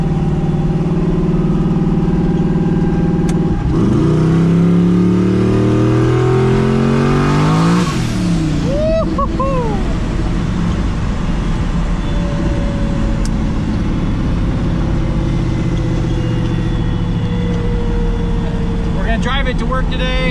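A high-mileage 4.8 V8 car with a turbo, new cam and raised boost revs and accelerates hard in a loud, close engine roar that climbs through rising gear sweeps, with a whistling turbo note and shifts.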